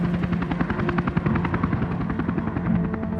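A Westpac rescue helicopter lifting off near Cessnock, its rotor throbbing in a rapid rhythmic chop over a steady turbine hum, loud and close throughout.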